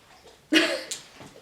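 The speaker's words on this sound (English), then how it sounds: "My dog is drinking water and it sounds really great." A short burst of wet splashing and lapping as an animal drinks from water, close by, then a quieter slurp before it fades.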